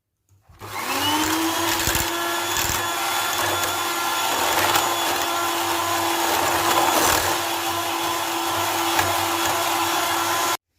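An electric hand mixer beats cream cheese with sugar for a no-bake, gelatin-free cheesecake, giving a steady, close motor whine that starts abruptly and runs evenly to the end without talk.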